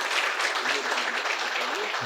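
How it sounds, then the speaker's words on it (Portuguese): Applause from an audience at a commemorative talk honoring Sister Germana of Macaúbas, a steady, dense clatter of clapping hands close by, continuing evenly throughout with a faint voice beneath. "Peço uma salva de palmas aí para a nossa irmã Germana."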